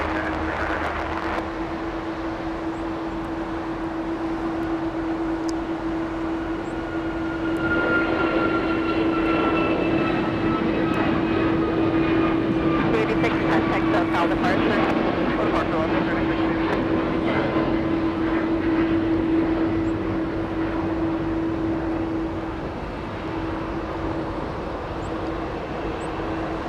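A heavy airliner at Los Angeles International Airport holds a steady engine drone with a strong sustained tone as it takes off from runway 25 right, swelling in the middle and fading toward the end, with faint distant talk underneath.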